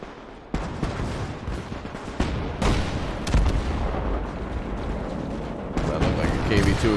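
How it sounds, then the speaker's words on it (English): A KV-2 tank explodes in the World War II video game Gates of Hell, a loud broadband blast among a continuous rumble of battle, with heavy cracks of gunfire and further booms punctuating the din. "KV-2 explosion."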